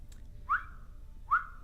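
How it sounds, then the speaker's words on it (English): Yondu's killing whistle from a Marvel video game: two short rising whistle notes, each sliding up and holding briefly, about a second apart and clearly audible over a low background rumble. "that's the sound of the killing whistle."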